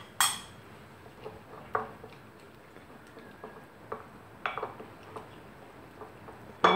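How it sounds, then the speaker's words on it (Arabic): A utensil clinks against a bowl while chicken marinade ingredients are stirred together: sparse, irregular taps and scrapes, a few sharper knocks at the start and end, close and quiet, with no talk. "وغنخلط هاد العناصر كلها تتولي متجانسة"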